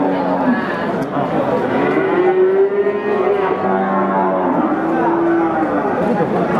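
Pegon cattle at a livestock market, including a large bull of around 800 kg, lowing in long, deep moos close by, with background chatter from people around the pens.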